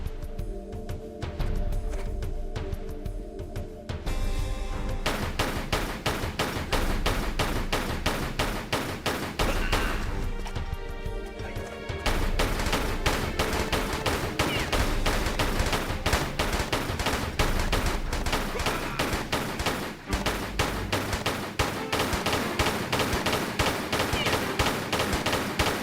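Rapid video-game gunfire runs almost continuously at full loudness, with bursts of shots packed into dense, sustained volleys and only brief pauses near the start and middle, with no one talking over it.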